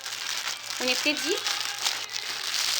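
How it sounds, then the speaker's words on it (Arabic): A plastic bag crinkles as it is wrapped around an Eid gift of money with candy or chocolate, a soft rustle that runs under a person talking. "نلف الكيس بتاعنا"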